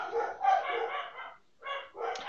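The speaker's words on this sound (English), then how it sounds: "Except listening to my dogs that has started to bark beside me now" Dogs bark beside a person at home, a run of close, loud barks and yips in two bursts separated by a short pause, with no talk over them.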